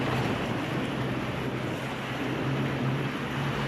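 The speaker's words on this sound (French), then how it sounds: "C'est le vent qui agite la mer." Wind stirring the sea along the Algarve coast in Portugal, a continuous broad rushing wash of waves and wind noise, steady and fairly loud without pauses.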